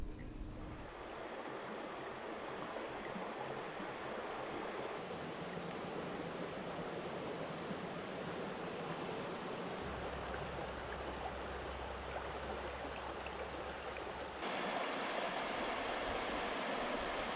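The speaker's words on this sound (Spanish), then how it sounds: "El Curueño, río truchero por excelencia, tiene orillas amplias y bien cuidadas" The Curueño, a trout river with broad banks, flows in a steady, continuous rush of water, close and even throughout with no voices.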